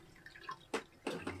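Fresh water from a boat's onboard water tank pours out of a hose, a faint trickling and dripping with a few louder splashy bursts.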